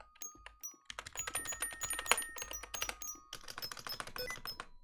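Computer keyboard keys are pressed in quick, irregular bursts of clacky taps at close range, with a short pause after the first few strokes before steady typing resumes.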